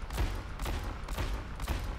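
McCree's revolver fires in Overwatch in a quick rhythmic string of four or five loud, punchy shots roughly half a second apart, heard close up during aim training.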